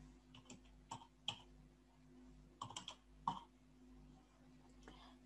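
Scattered keystrokes on a computer keyboard, faint irregular clicks in small clusters with pauses, over a low steady electrical hum.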